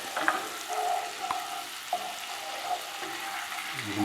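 Food sizzles steadily in a hot pan on high heat, with occasional utensil scrapes and taps as it is stirred, close and fairly quiet with no talking.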